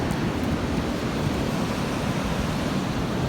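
Steady broadband roar of ocean surf washing onto a beach, a constant close wash with no distinct breaks, heard alone without voices.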